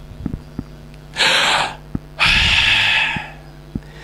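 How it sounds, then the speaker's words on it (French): A person breathing in and out close up: one audible inhale followed by a longer, breathy exhale, with a few faint clicks in the quiet around them. "Lorsque quelqu'un respire, il est en train d'inspirer et il est en train d'expirer."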